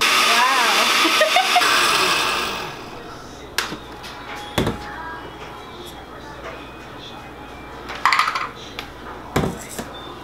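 A blender roars loud and steady for the first couple of seconds, grinding tomato, onion and chiles for birria de res, then cuts off, leaving scattered kitchen clatter and knocks.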